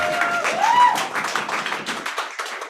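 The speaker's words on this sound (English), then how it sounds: "Now, please give her a round of applause." Scattered clapping from an audience at a Black History Month program, a brief round of claps with light taps and thuds, moderately close, fading after a couple of seconds, no voices over it.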